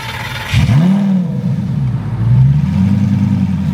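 A pre-LP Lamborghini Gallardo V10 engine fires up and revs hard at close range, with a rising and falling throaty roar that settles into a loud, uneven idle.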